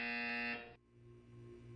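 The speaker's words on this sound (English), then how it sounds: "You will hear a buzzer." A flat, steady buzzer drones from a Portal test chamber speaker, loud and sustained for about half a second before cutting off, leaving a low hum of room tone behind.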